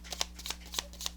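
Cardstock playing cards being overhand shuffled, a series of brisk papery riffling bursts at an even rhythm, close and fairly quiet over a low steady hum.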